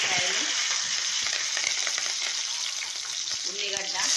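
Green chillies frying in hot oil for a tomato curry, a steady close sizzle that fills the whole stretch without a break, with a voice faintly heard talking over it.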